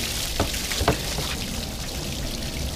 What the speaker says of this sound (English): Lots of water's gonna be out of there, obviously.